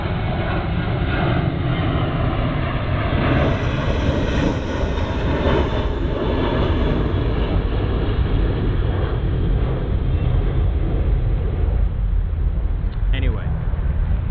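Propeller airplane passing overhead above a zone 7A backyard vegetable garden, a steady broad engine drone lasting throughout at moderate distance, with a person talking over it.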